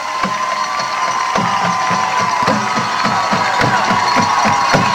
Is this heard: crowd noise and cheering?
yes